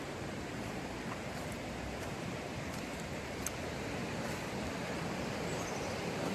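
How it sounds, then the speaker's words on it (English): A creek running high after rain, a continuous broadband rush of water that stays steady and fairly faint throughout, with no voices. "The creek is on the rise today."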